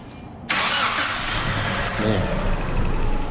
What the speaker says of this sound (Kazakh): Көлікті қыздырамыз.